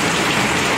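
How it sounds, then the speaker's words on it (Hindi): Heavy monsoon rain pours down in a dense, loud, steady hiss with no gaps, close by and with no voices over it. "बहुत तेज बारिश स्टार्ट हो चुकी है"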